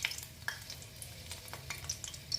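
Mustard oil heats in a hot wok on a gas stove with a faint, soft sizzle and a few light scraping ticks, quiet and steady with no talking.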